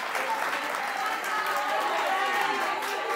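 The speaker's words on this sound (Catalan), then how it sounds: "Aplaudim perquè hem acabat el primer nivell" Studio audience applauding steadily at the end of the first level of a TV word quiz show, a dense continuous clapping that stays even for the whole stretch.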